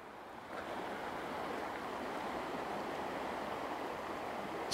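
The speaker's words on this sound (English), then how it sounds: "It's the River Shannon." The River Shannon flows beside a campsite at Battlebridge in County Leitrim, a steady broadband rush of moving water mixed with wind buffeting the microphone, continuous and fairly close.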